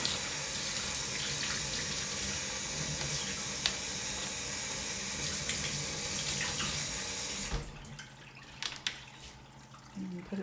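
Tap water streams into a sink, rinsing a clogged pump part from a Kanana Hydro-Planter, a steady splashing flow that stops partway, leaving a few faint drips and handling clicks.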